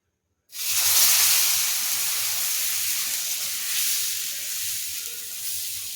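Moong dal onion dosa batter hits a hot tava and erupts into a sudden loud hiss that settles into a steady, close sizzle with crackling, with no talking.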